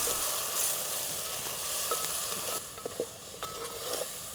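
Chopped tomatoes frying with garlic in a pan for rasam, a soft steady sizzle and hiss running throughout, with a few faint stirring clinks near the end.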